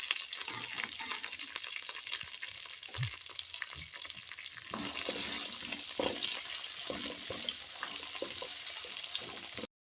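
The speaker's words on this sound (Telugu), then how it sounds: "దీంట్లోనే ఆనియన్స్ కొంచెం పుదీనా ఇవి ఫ్రై చేసుకుందాం" Onions and mint leaves fry in a pan, with a steady, close sizzle that runs throughout, occasional stirring scrapes, and a brighter burst of crackle partway through.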